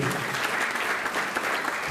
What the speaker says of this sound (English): they deserve a round of applause for the lighting